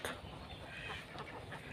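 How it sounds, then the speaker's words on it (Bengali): Ducks at a duck farm inside a park, a dense flock quacking continuously and fairly close, filling the short stretch with overlapping calls against steady background noise. "এই হচ্ছে জিন্দা পার্কে ভিতরে একটি হাঁসের খামার"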